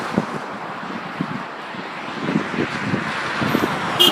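Strong storm wind in Sydney, Nova Scotia rushes as a steady broadband roar with low gusty buffeting against the microphone, building slightly toward the end, with no voices.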